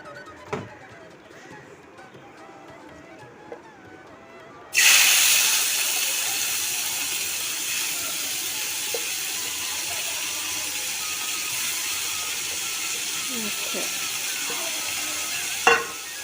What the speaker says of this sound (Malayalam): ചട്ടിയിൽ എണ്ണ ഒഴിച്ചിട്ടുണ്ട് ഇനിയിപ്പോൾ നമുക്ക് ഇതിനകത്തോട്ട് ബ്രോക്കോളി ഇട്ട് കൊടുക്കാം